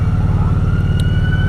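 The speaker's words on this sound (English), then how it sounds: "sirens." Emergency vehicle siren heard during a motorcycle ride, loud and continuous with a wavering tone over a low rumbling engine.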